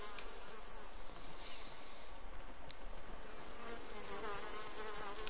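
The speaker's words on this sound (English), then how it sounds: "Thank you, bees." Bees buzz in Ghost of Tsushima, a dense, continuous insect drone close by, with several wings whining and shifting in pitch.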